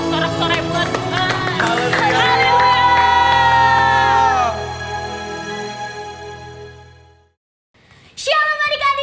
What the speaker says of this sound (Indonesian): Sorak-sorai buat Tuhan.